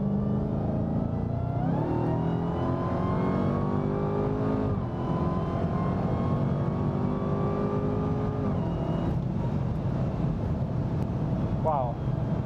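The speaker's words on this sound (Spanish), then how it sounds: "De momento vamos a acelerar a ver qué pasa aquí." A 2021 Dodge Charger SRT Hellcat Redeye Widebody accelerating, its engine rumbling loud and close as the pitch climbs through several gear changes, with someone talking over it.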